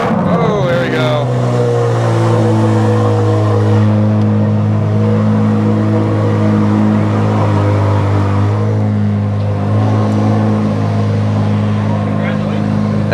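A Chevrolet Corvette C8 Z06 engine drones loudly and steadily from inside the car on its first drive, with deep sustained tones and faint voices beneath.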